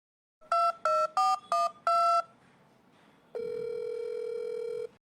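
A phone places a call to mom: five quick, loud keypad tones in a row, a short pause, then a steady ringing tone that holds.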